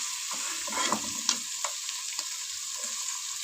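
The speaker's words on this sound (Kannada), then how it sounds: "ಈರುಳ್ಳಿ ಹಾಕೊಂಡು ಫ್ರೈ ಮಾಡ್ಕೊತಾ ಇದ್ದೀನಿ" Onions fry in a pan for avalakki (poha) in a home kitchen. A soft, even sizzle carries a few light clicks of a stirring utensil, with no voices.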